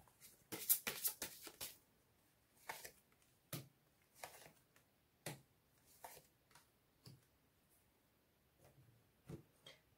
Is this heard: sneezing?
no